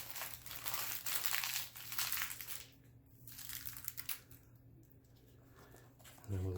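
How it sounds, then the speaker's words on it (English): Vinyl decal sections are peeled off a backing sheet, giving close crinkling and crackling that is steady at first and then thins out into softer, intermittent rustles. "I'm going to peel this first section off, and it should leave all these squares"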